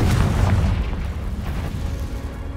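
Confringo fire blast spell exploding in the Hogwarts Legacy video game, a deep booming burst that starts loud and rolls into a sustained rumbling roar for a couple of seconds, with no talking.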